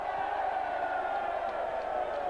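A stadium crowd at a 2000 Bradford versus Wakefield rugby league friendly roars continuously at a distance, a dense sustained cheer filling the stand.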